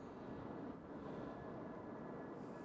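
A UPS A300 airliner taxis out for takeoff at Louisville's UPS World Port, heard as a steady, distant low engine rumble and roar with no voices.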